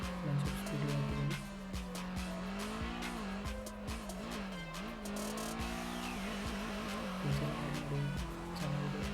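A car engine in the Car Drift Pro video game revs and whines with wavering pitch, mixed with tire squeals and skidding, loud and continuous with no one speaking.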